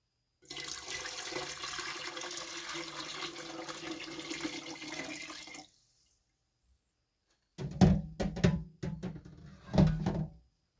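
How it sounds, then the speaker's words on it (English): Homemade vegetable broth pours steadily from a pot into a pan for lentil soup, a continuous splashing stream lasting several seconds, followed after a pause by a few close knocks and clatters of cookware. "pour this broth into this pan"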